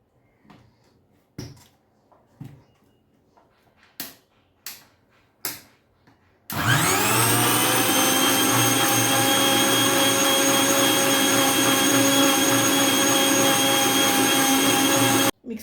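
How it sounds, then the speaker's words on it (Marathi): A kitchen mixer blends mango milkshake made with Alphonso mangoes and sugar, starting after several sharp clicks and knocks and then whirring as a loud, steady motor drone that cuts off abruptly at the end. "आता मी लावते मिक्सरला।"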